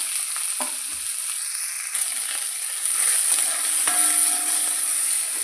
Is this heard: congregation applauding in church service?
no